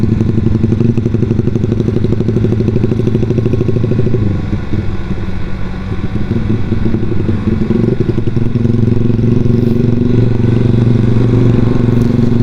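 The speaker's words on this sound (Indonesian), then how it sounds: "jadi agak sepeda motor saya agak belebet itu loh teman-teman" Automatic scooter motorcycle struggling and sputtering on a rough mountain road, engine loud and close throughout with uneven, rattling revs and a brief dip midway, no voices.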